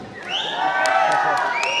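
An audience at a Sherpa Losar comedy show cheers, whoops and whistles, with shrill rising whistles cutting over a loud, continuous crowd roar.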